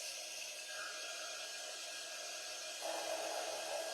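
A heat tool blows a continuous, even hiss while drying ink on a craft piece. The hiss stays steady and fairly close, shifts slightly in tone near the end, and no one talks.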